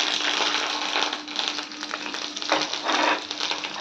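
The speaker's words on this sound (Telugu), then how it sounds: "పోపు వేగిపోయింది." Tempering of mustard seeds, cumin, dried red chillies and curry leaves frying in hot oil, a steady close sizzle with crackling pops, loud and alone without talk.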